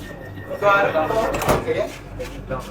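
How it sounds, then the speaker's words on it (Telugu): A Vande Bharat train door slides shut with a dull thud at Vizianagaram station, amid busy talking voices and general station clatter. "ఇంకా మన డోర్ అయితే క్లోజ్ అయిపోద్ది"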